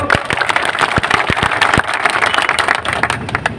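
A crowd at a farmers' rally applauding: dense, loud, continuous clapping with sharp individual claps standing out throughout.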